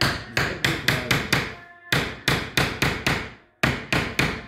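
A hammer drives a small wooden wedge under wooden lining boards, sharp loud blows in quick bursts of four to five strikes separated by short pauses, with no talking.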